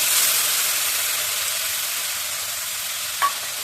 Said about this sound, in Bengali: এবার একটু মেথি ফোড়ন দিয়ে দিলাম, মেথি ফোড়ন দিয়ে ওই যে বাটা মশলা আগে ফেলে